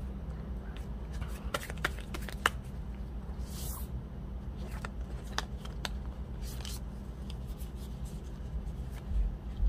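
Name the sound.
tarot cards being shuffled and drawn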